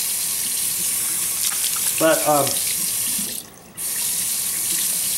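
Water runs from a newly installed Moen kitchen faucet into the sink, a loud steady rushing hiss throughout, briefly dipping near the end; someone speaks a word over it and a short tonal squeak sounds midway.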